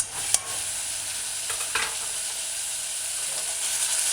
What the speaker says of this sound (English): now shred or grind garlic to puree added to the heating oil.